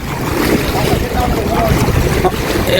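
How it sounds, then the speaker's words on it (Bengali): Strong sea wind buffets a fishing boat on the open sea, a loud, constant roar and rumble mixed with wave wash, with voices briefly audible underneath. "বাতাস এমনি প্রচুর এখানে"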